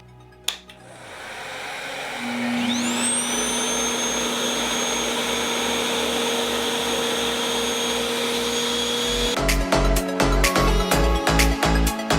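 A RevAir reverse-air hair dryer on level 2 with low heat starts after a brief click and then runs as a steady loud whooshing drone with a whining motor tone. A fluttering rhythmic pulsing comes in near the end.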